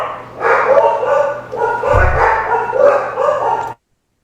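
Several dogs barking from inside a nearby room, a loose run of yaps and barks over a low steady hum, with voices talking under them.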